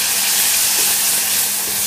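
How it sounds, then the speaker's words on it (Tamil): Chopped tomato frying in a pan with ginger-garlic paste for tender coconut biryani makes a loud, even, close hiss of sizzling with no talk. "இந்த தக்காளி நல்லா வதங்கட்டும்."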